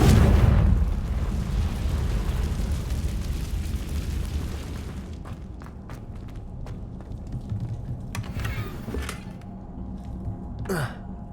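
Confringo fire blast spell cast in Hogwarts Legacy, a loud burst at the start that decays into a rumbling roar, followed by scattered crackles and brief whooshes through the rest of the game scene.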